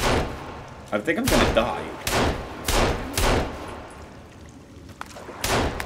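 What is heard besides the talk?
gunfire in video game Sons of the Forest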